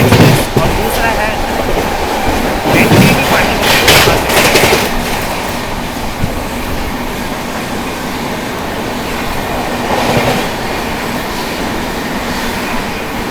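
The Vikramshila Express sleeper train runs at high speed, a loud continuous roar and rattle of wheels on track with bursts of clatter as it passes other trains, heard from inside a coach.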